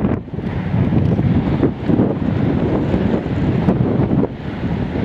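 Strong gusty wind blowing just ahead of a cold front, roaring loudly against the microphone in continuous buffeting surges with no voices present.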